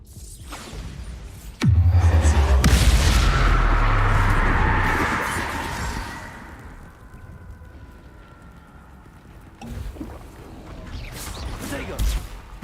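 The Bombarda blasting spell in Hogwarts Legacy gives one sudden heavy explosion, a booming impact with a long rumbling, whooshing tail that slowly fades before smaller bursts near the end.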